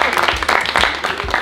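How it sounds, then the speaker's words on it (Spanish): Audience applause for eliminated participants in a subscriber circle challenge, a short burst of scattered, uneven hand clapping with a voice speaking over it. "Un aplauso para ellos."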